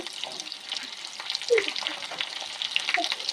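Onions sizzle in hot oil for mango pickle, giving a steady crackle with occasional stirring scrapes, close and fairly soft, with no talking.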